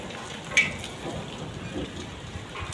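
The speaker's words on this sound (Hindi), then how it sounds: "देखो भगवान थम बारिश थमने का नाम नहीं ले रही है।" Steady rain keeps falling outdoors over farm fields of damaged wheat, a continuous even hiss with faint scattered drops and one brief sharper tap, moderately loud and with no talk.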